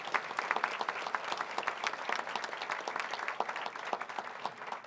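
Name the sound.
round of applause for convention staff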